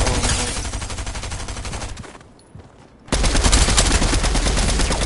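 Rapid automatic gunfire in a PS4 game aimed at a player trying to land, dense close bursts that stop for about a second before resuming loudly.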